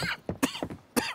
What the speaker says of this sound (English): watch that cough